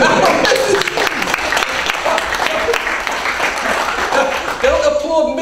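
An audience at a talk on open source software at Google claps in a brisk wave of applause, with voices mixed into the steady clatter. It lasts about five seconds and swells again near the end.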